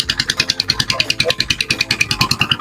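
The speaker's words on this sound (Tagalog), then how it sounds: "mandar na yung makina natin" A small grass cutter engine runs close by, putting out a rapid, regular pulsing chug at a steady pace and fairly loud level.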